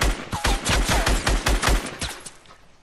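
Rapid bursts of automatic gunfire from a Fortnite Battle Royale squad match crackle in a loud, close, stuttering string of shots that tapers off near the end.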